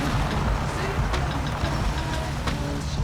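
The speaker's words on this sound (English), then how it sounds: "I got back in the Satsuma and drove home." A Satsuma car drives along in My Summer Car, its engine a low, steady rumble underneath, continuous and fairly loud with some road noise.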